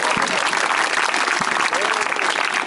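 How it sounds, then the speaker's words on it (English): Applause for the sound crew at a tribute concert to WWII veterans, loud continuous clapping from the audience with a couple of low thumps, heard without speech. "Let's give a round of applause to our sound guys at this time."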